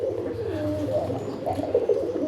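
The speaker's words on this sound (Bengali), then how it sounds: "সেই একত্রে চার জোড়া কবুতর আছে" Raj Golla pigeons cooing, soft low repeated throaty coos close by, continuous and alone without speech.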